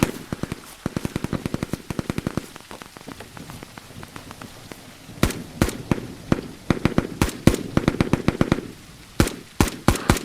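Rapid gunfire in the tactical extraction shooter EXFIL crackles in sharp, loud bursts of automatic shots with brief gaps between volleys.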